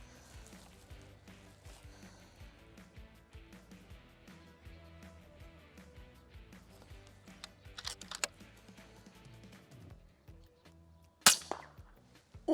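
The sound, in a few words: airgun shot hitting a target while hunting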